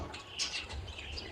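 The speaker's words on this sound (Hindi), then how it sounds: "तोते भी बोल रहे होते हैं" Parrots calling outdoors: a few faint, scattered chirps and squawks over a low background hum, with no talk.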